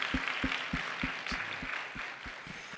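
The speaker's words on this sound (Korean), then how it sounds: "우리 한번 박수하겠습니다." At an evening revival meeting in a Korean church, the congregation claps in unison, about ten crisp, evenly spaced claps in a steady rhythm over a soft room ambience.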